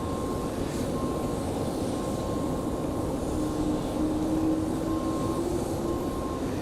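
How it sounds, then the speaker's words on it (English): Breeze Airways Airbus A220 jet departing, a steady distant roar of engines holding level throughout with a faint tonal whine riding on top; no voices. "Little turn and burn action for the Breeze A220."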